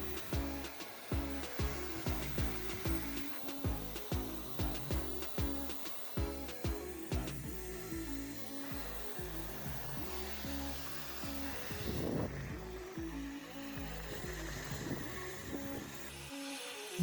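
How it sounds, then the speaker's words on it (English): A hair dryer blows strong air over a removed Epson WorkForce 3720 printhead, giving a droning motor whir that pulses rhythmically as the airflow shifts, steady and close with no talking. "you need to use a hairdryer with strong air pressure to completely dry the printhead"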